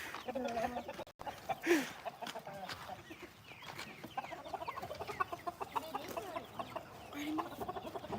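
Farm chickens cluck and squawk steadily up close, a busy flock chattering over faint outdoor background, with quiet voices now and then.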